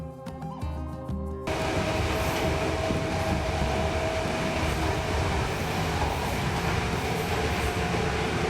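A passenger train travelling between Vavuniya and Jaffna gives a steady, close rumble and rattle of the moving carriage, following a brief musical opening.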